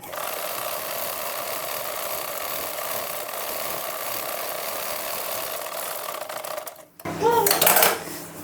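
A sewing machine runs in a steady continuous whir while stitching a blouse lining, then stops abruptly and a short louder burst of other sound follows.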